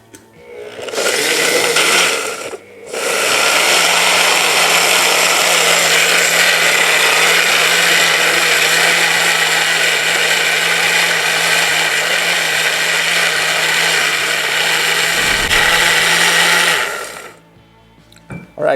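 A kitchen blender whirs loudly and steadily while blending Carolina Reaper hot sauce ingredients, starting with a short burst, a brief pause, then a long continuous run before cutting off, with no talking.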